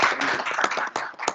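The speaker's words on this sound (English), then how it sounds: "A round of applause to the panel." An audience at a savings groups meeting's panel discussion gives a brief burst of dense, close hand clapping that fades within about a second.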